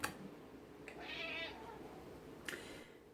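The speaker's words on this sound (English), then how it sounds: "my cat has had to bust in here" A house cat meows indoors, one drawn-out call near the middle over faint room noise, with short sharp sounds at the start and end.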